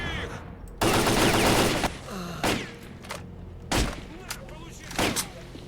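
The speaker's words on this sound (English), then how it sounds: "Who's shooting me?" Bursts of automatic gunfire in S.T.A.L.K.E.R.: Clear Sky, several loud rapid volleys separated by short pauses, with shouting voices mixed in.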